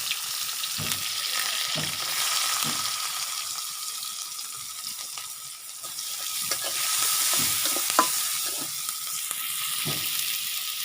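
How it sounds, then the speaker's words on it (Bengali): Onion and chili frying in oil give a soft, steady sizzle, with repeated stirring scrapes and taps at irregular intervals, fairly quiet and close, no voices. "পেঁয়াজ মরিচটা হলো ভাজা হয়ে গেছে।"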